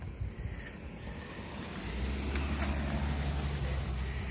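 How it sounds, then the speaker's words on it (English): A car passes on a road beside a parked 2003 Indian Chief motorcycle, its rumble building from faint to a steady low drone over soft wind noise. "There's a car that's going to pass me here in a second,"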